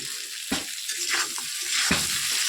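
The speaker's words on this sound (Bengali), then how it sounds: "তো ভালোভাবে ভেজে নিই ঝিঙে আলুটা" Ridge gourd and potato fry in a pan with a continuous close sizzle, broken by a few sharp scraping strokes as the pieces are stirred.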